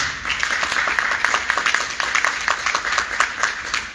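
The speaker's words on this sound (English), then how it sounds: "please give a round of applause to our captain" A gathering applauds its captain with clapping that comes in uneven, pulsing bursts from a modest number of hands, fairly close and loud, with no speech over it.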